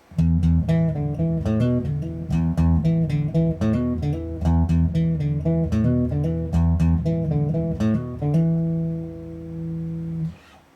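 A funky bass guitar riff with hammer-ons, repeating steadily and loudly on its own, ending on a sustained note that rings out and fades.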